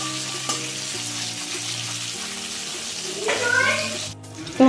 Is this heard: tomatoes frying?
yes